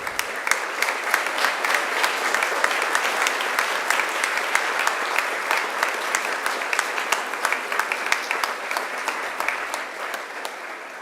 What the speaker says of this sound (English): And give them a mighty round of applause.